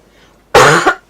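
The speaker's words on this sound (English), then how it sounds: "Cough is still here." A single loud, close cough bursts out after near silence, a short harsh burst with a second push at its tail, alone with no talk.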